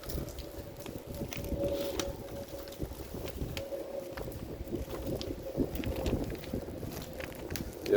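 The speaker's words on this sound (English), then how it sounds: "Wind is blowing on my phone" Wind buffets a phone microphone outdoors, producing continuous rumbling gusts and crackling bursts that rise and fall.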